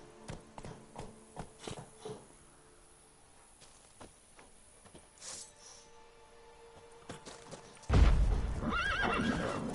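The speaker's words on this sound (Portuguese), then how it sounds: "tem calma, cavalo" A horse in The Witcher 3 video game, with repeated clip-clop of hooves in a steady walking rhythm followed by a loud, close neigh near the end, no speech over it.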